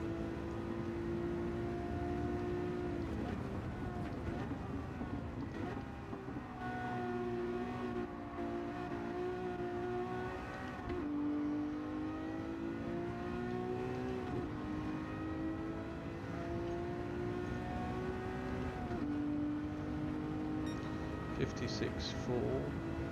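A car engine in an online racing video game hums at high revs, a steady, droning tone whose pitch sweeps up and down with shifts and acceleration, continuous throughout, with a voice talking over it.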